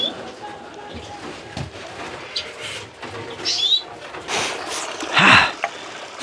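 Birds in an indoor bird room, with soft coos and scattered chirps, shuffling and rustling as the birds are carried in under a voice.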